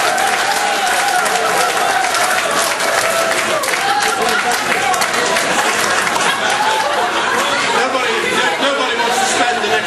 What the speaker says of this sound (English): The truly intelligent, both of you, might just want a little round of applause